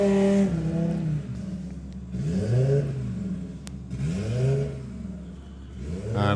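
A 6-cylinder drag racing car at a doorslammer drag racing event revs repeatedly, with several rising engine sweeps in succession, loud and fairly close.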